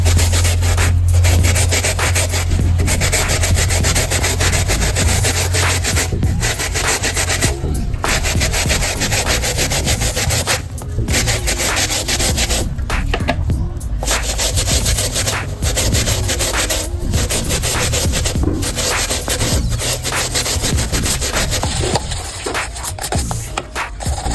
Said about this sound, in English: press or rub the paint roll gently so that the gasoline can work optimally